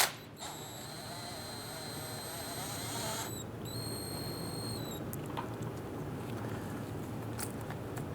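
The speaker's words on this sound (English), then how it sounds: "Go ahead and remove our banjo bolt here." Ratchet turning a 14mm socket on a brake hose banjo bolt of a 1995-2001 Ford Explorer, a close, steady run of fine clicks with squeaky tonal creaks, alone in a quiet workshop.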